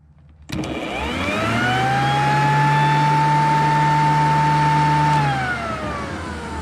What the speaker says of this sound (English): Here we go without the truck running with the blower.